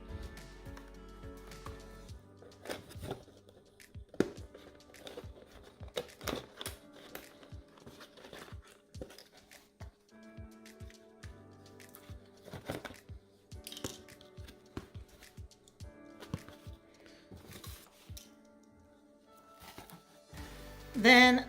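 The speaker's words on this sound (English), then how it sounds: "I'm going to be removing the plastic handle from one of the long flaps" A plastic handle being worked loose from a cut cardboard flap, giving a run of close, sharp crinkles, snips and tearing crunches with short pauses between, and a louder rustle at the very end.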